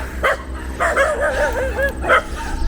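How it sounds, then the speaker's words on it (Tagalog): A dog barks and yips a few times close by on Mount Balagbag in Rodriguez, Rizal, with a whining, wavering howl between the barks. "Nakahulan tayo ng aso."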